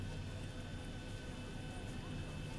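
A private jet coming in to land at an airport in X-Plane 11: a steady, moderately distant engine drone with a faint whine, lasting a few seconds under a speaking voice.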